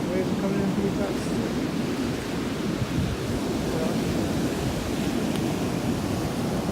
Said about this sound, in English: the waves are coming in pretty fast